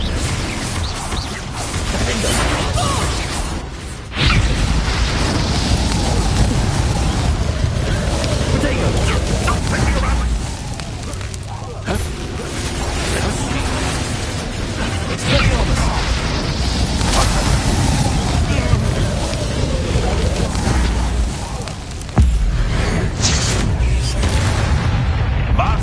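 Confringo blasting spell explosions crash repeatedly in Hogwarts Legacy on PS5, dense loud booms and rumbles layered over continuous battle noise, with voices speaking intermittently throughout.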